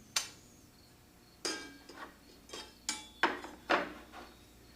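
A wobble dado blade being handled and fitted onto a table saw arbor, giving seven sharp metallic clanks and clinks spaced about half a second to a second apart, close by and with no talk.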